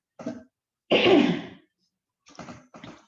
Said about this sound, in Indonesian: kenapa jadi ini batuk ya